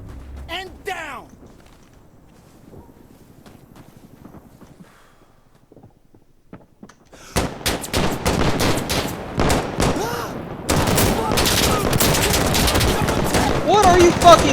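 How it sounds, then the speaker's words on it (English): Gunfire in Insurgency Sandstorm arrives as dense, loud bursts of rapid automatic shots and nearby explosions. It starts after several quiet seconds with faint voices and carries on almost continuously to the end, mixed with shouted talk. "I fucking shot that guy twice"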